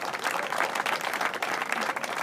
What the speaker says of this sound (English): A big round of applause for the kids.